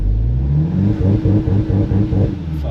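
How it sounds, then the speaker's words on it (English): Volkswagen Jetta GLI with a Unitronic Stage 1+ tune launching hard from a standstill, the engine loud and close, revving with rapid pulsing gear-driven surges over about three seconds. "we're gonna do launch control real quick"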